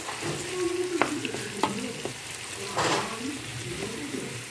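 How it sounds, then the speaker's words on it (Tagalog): Onions fry in a pan with a steady close sizzle, broken by a few stirring scrapes and clicks, and a faint voice hums in the background. "Hintayin lang natin maluto ang sibuyas."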